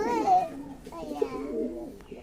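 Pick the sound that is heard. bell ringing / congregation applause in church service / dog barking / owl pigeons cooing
owl pigeons cooing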